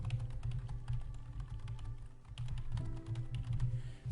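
Computer keyboard keys typed in a steady run of quick clicks while composing an email message, close and clear over a low constant hum, no talking.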